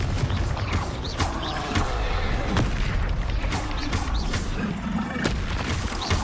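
Repeated explosive blasts of the Confringo fire spell in Hogwarts Legacy, sharp booms recurring every second or so over a constant roaring, mechanical game din.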